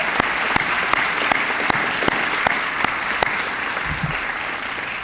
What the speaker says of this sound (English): Let's give our top 20 students a round of applause.